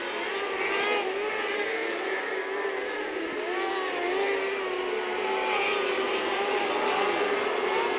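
Race cars in thick lap traffic at US 24 Speedway during a night dirt-track series race, a continuous droning engine roar with rising and falling pitch as cars circle, heard from a distance under faint commentary.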